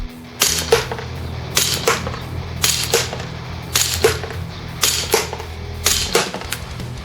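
A KWC GameFace Mayhem gas blowback BB pistol fires outdoors at a man-sized target about 100 feet away: a dozen or so sharp, close cracks in a steady, paced rhythm, each snapping loud over faint background noise.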